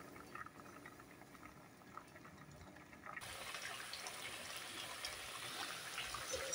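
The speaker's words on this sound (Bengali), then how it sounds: "কিছুক্ষণ ঢাকনা দিয়ে আলুগুলি সিদ্ধ হওয়ার জন্য রেখে দিলাম 5 মিনিট" Potatoes boiling in a lidded pot, a faint, steady bubbling hiss that grows fuller and louder partway through, with no other sounds or voices.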